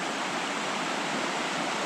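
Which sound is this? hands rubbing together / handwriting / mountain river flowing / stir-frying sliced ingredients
mountain river flowing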